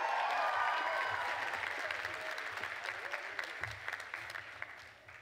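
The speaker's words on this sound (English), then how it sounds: "We all just gave him a round of applause" Audience applause at a college commencement ceremony, loud and dense at first, then gradually thinning into scattered individual claps near the end.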